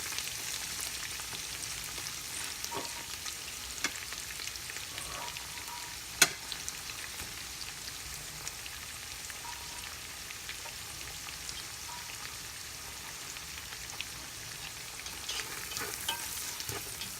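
Sliced onions sauteing in a pan for mutton biryani, a steady soft sizzle and crackle with occasional stirring clicks and one sharp tap near the middle, fairly quiet and close, no talking.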